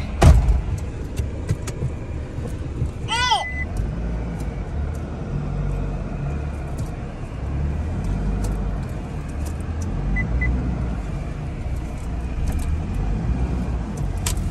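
A Force Gurkha off-road vehicle stuck beside a lake shore runs its engine with a steady low rumble throughout, punctuated by a brief squealing chirp early on.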